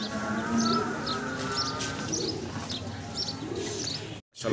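Lahori pigeons, a male and a female, coo in repeated soft, rolling calls close by over a steady background murmur.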